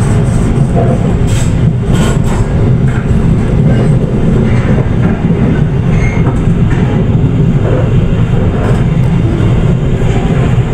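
A KA Progo economy train running on rails between Jakarta and Yogyakarta, heard from inside the carriage as a loud, steady low rumble with faint rhythmic clicks and rattles throughout, no talking.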